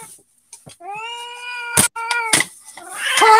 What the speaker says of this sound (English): Grumpy little cat.